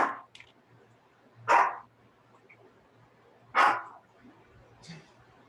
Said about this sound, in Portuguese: cachorro de alguém.